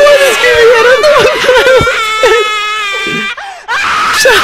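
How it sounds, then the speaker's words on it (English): A monster shrieks in the Slendytubbies horror video game, loud wavering high-pitched screams and wails running continuously for several seconds, with players' frightened voices and yelps mixed in. "I can hear the thing screaming."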